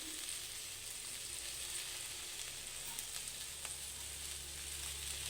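Okra fry cooks in a pan in a village kitchen, a faint, even sizzle that hisses steadily throughout with no voices.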